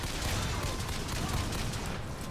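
Rapid gunfire in BioShock Infinite, a dense, loud burst of shots packed tightly together over a constant combat din, with no voices.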